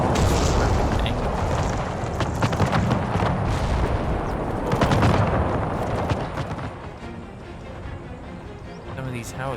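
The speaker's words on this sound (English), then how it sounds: "Some of these howitzer shots can land." Howitzer artillery fire in Empire 2, an eighteenth-century battle game set at Berlin in 1758, with repeated booming shots and rumbling impacts through a dense battle din, while someone talks over much of it.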